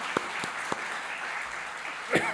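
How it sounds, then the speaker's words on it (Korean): Church congregation at a Friday worship service applauding the praise and music team, steady dense clapping filling the room with a few louder claps standing out. "오늘 참 우리 찬양팀 또 우리 연주팀 박수 한번 했습니다"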